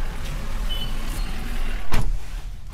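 Road traffic in a heavy jam, a continuous low rumble of car engines and tyres heard from inside a vehicle, with a brief louder swell near the end.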